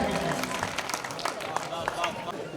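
A crowd at a Hindi kavi sammelan in Sukheda honouring Atal ji's birth anniversary applauds poet Sanjay Khatri with dense, energetic clapping. Crowd murmur and voices run through it.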